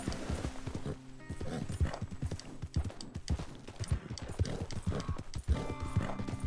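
Horse hooves clip-clop at a slow, uneven gait while riding cross-country in Red Dead Redemption 2, with close thuds against a soft game ambience and occasional faint tack rattles.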